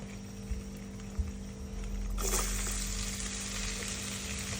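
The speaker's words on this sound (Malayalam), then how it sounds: "അപ്പോൾ നമുക്കിപ്പോൾ ആവശ്യമുള്ളത് വെളുത്തുള്ളി ഇട്ട് കൊടുക്കാം" Garlic dropped into hot oil in a pan for palak paneer, the sizzle jumping up loudly and then holding as a steady close hiss over a low electrical hum, no voices.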